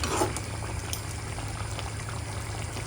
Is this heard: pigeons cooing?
no